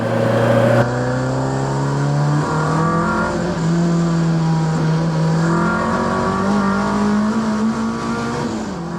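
An old Ford Escort's engine revving loudly while driving, a continuous raspy drone that rises and falls in pitch as it accelerates.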